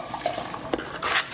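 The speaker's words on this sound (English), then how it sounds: "Debs, you go ahead and still stir that for me." A spoon stirring a flour tortilla mixture in a pot, soft scraping and light metallic knocks in a short close burst, no voices.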